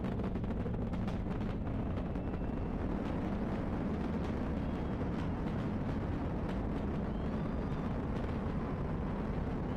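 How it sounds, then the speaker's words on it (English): The four main engines of the Space Launch System core stage power the Artemis II crewed moon launch with a continuous, loud, low roar and crackling rumble that holds steady throughout and has no speech over it. "Mission Control Houston seeing good performance on the 4 main engines."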